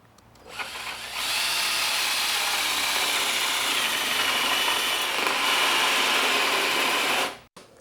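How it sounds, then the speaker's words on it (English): A power drill fitted with a special hinge-boring bit bores a hinge hole in a door, starting after a short pause and whining steadily and loudly for about six seconds before cutting off abruptly. "you got to have a special drill bit for this hinge. Well, I've got one. Let me show you how it works."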